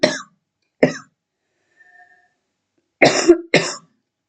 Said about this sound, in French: On peut tousser